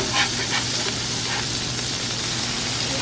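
Smash burger patties frying on a flat BBQ griddle at an outdoor RV cookout, a loud, dense and continuous close sizzle with crackling grease and no talking.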